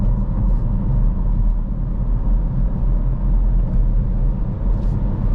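A manual car's engine hums loud and steady inside the cabin during a downshift from fifth to third gear, a constant low rumble with little change in pitch and no talking.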